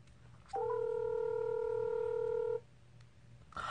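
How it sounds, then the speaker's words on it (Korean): A telephone call is being placed. A single steady electronic tone sounds for about two seconds, clear and close, then cuts off, leaving quiet room noise with a faint click near the end. "일단은 사장님한테 전화 좀 할게요"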